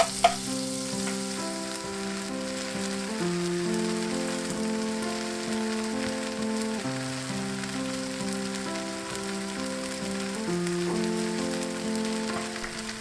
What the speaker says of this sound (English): Let the Spam get browned a bit.